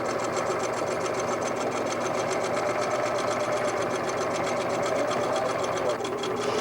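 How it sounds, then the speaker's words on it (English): A sewing machine runs steadily as it joins quilt side border pieces with a quarter-inch seam, a close, continuous mechanical whir with a voice talking over it. "sew using a 1/4 inch seam allowance"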